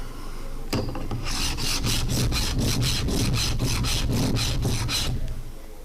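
The bevel of an old chisel is rubbed back and forth on an abrasive at a scroll saw club meeting, producing about a dozen loud, evenly spaced rasping strokes close by, with no talking.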